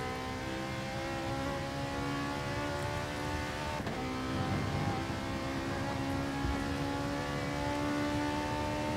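Ferrari race car engine in a sim racing game at Interlagos, droning steadily at high revs with a layered harmonic whine and one brief shift, running alone at moderate level.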